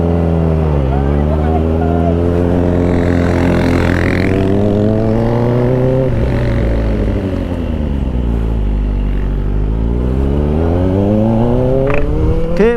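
A Kawasaki Ninja ZX4-RR motorcycle roars past at TCH Red Cliff, its engine pitch climbing and falling as it approaches, passes and revs again. The bike is loud and close, and the engine note sweeps repeatedly over the whole pass.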